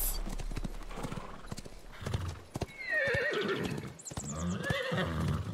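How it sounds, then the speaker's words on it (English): Horse in a PUBG village whinnying several times over steady clip-clop hooves, fairly close, with the neighs rising and falling across the second half. "Horsey horse!"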